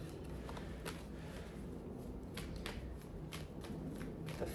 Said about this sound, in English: Shuffle them real good.